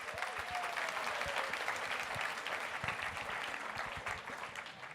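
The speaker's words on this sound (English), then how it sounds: "Give him a big round of applause for that." An audience at India by the Bay, Asia Society, applauds to welcome William Dalrymple: dense, sustained clapping from a large crowd, loud and even throughout with no voices over it.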